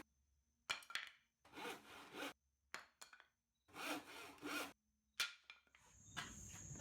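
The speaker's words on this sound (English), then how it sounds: "so I had to finish it off with a handsaw." A handsaw finishes a cut through a wooden piece for a DIY mailbox, in several close, rasping back-and-forth strokes separated by short pauses, quiet overall with no talking.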